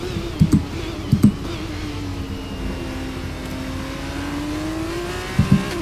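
F2 race cars in the F1 23 game, on the Austria circuit, hold a continuous engine whine whose pitch slowly dips and rises, with a few short bumps of other cars audible throughout.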